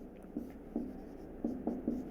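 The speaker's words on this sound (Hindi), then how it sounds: "स्क्वायर ब्रैकेट के अंदर लिखते हैं।" Marker strokes scratching out square brackets on a board during a chemistry lesson: several short, faint squeaks and scrapes in an irregular rhythm, with no voice over them.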